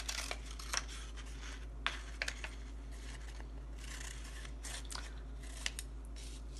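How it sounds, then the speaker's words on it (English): Scissors snip through a circle of coloured paper in quiet, irregular cuts, each soft crisp crunch separated by short pauses, close by and faint. "I'm just cutting a little bigger than that first circle."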